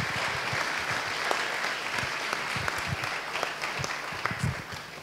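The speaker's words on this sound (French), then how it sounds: "Donc on peut les applaudir." Sustained audience applause at an evening event, steady dense clapping filling the room for about five seconds at moderate level, with no talk over it.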